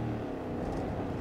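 A truck engine in the video game Far Cry 5, stuck in place, hums and revs low and steady, a brief rumbling drone with a slight lift near the end.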